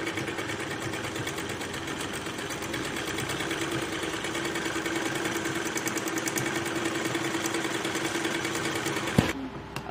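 A sewing machine stitching lace onto a sleeve, running as a steady, fast, close mechanical whir with a continuous needle rhythm for most of the stretch before it stops abruptly near the end.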